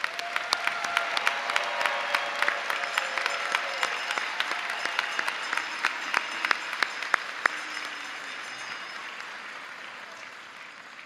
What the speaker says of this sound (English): Let's give a round of applause for all of our graduates.